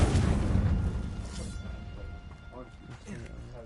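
A Confringo fire spell blasts in Hogwarts Legacy with a loud, rumbling explosion that fades over a few seconds, while game sounds continue underneath.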